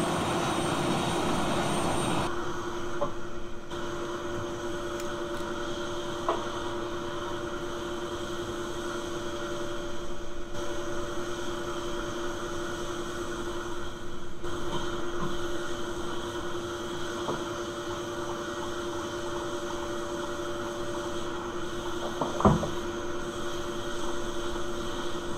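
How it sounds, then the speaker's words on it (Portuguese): Jet engines of a Bombardier Challenger 300 spooling up in X-Plane 11, a steady low hum with sustained whining tones, fairly quiet and continuous, a brief clunk near the end, no talking. "E se o senhor quiser, já pode acionar os motores."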